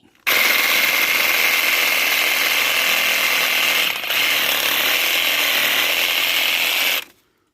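A cordless Parkside pole saw cuts through a fir branch, a loud, steady rasping buzz running for about seven seconds with a brief dip midway, then stopping abruptly.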